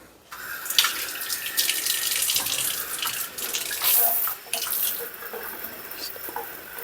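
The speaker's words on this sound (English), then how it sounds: "rinsing it off." Tap water runs steadily into a sink as an item is rinsed off during whole-house cleaning, a continuous close splashing hiss with brief shifts and interruptions as the object moves under the stream.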